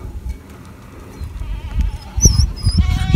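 Goats and their kids bleat in short calls along a mountain trail on the Lycian Way in Turkey, a few cries rising late over rustling footsteps and faint buzzing insects, fairly near.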